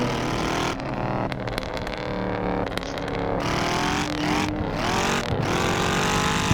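High-performance cars cruise through Los Angeles canyons: Mercedes C63 AMG, BMW M3 F80 CS, GT63S AMG and M5 F90. Engines roar loud and continuous, with rising and falling revs and shifting gears, close by.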